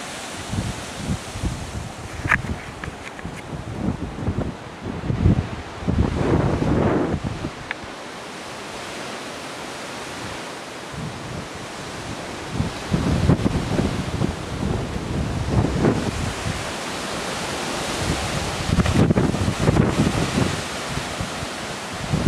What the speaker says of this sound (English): Yeah, just enjoy this wind.